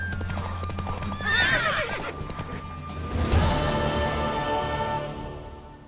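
A horse neighs loudly twice over the steady clip-clop of galloping hooves in the video game The Witcher 3, with a synthetic, game-like quality.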